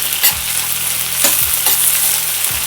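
Tomatoes and onions sautéing in a pan, a close and steady bright sizzle. A few low thuds of stirring land at roughly regular intervals.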